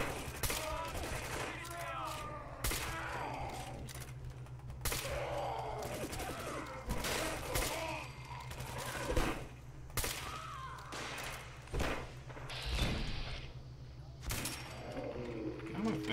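Gunners fire at the player in Fallout 4, with repeated bursts of gunfire and sharp single shots scattered through steady game background noise, while a man mutters now and then.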